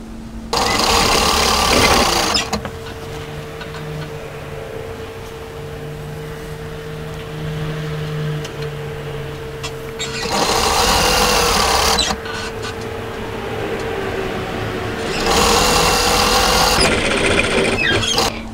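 A sewing machine stitches a raglan-cut hoodie in three loud, steady whirring bursts of a few seconds each, separated by quieter stretches with a low motor hum.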